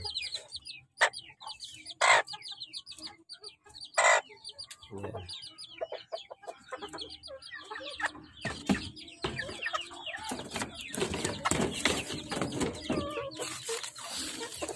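Small Serama bantam chickens cluck and chatter nearby in a backyard, a string of short, clipped calls with occasional louder squawks, and a person talks over the flock toward the end.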